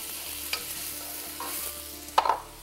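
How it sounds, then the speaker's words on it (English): Thin strips of squash and sweet potato stir-frying in a pan, a quiet hiss of frying broken by occasional clinks and scrapes of a spatula against the pan. "increase the flame, stir constantly and let it cook for about"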